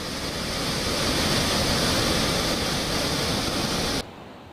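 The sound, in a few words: Tapi river water overflowing the Rander–Singanpore causeway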